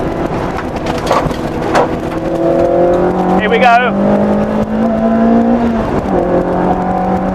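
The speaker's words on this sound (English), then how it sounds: "Nothing quite like a K-Series at full chat." A Lotus Elise Sport 160's Rover K-Series engine revs hard at full throttle, its pitch climbing steadily before dropping at a gear change; someone speaks briefly over the roar.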